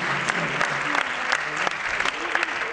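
A crowd at a disability event in the Var claps steadily for Jean-Paul Messerschmitt, dense and lively applause with a voice speaking over it.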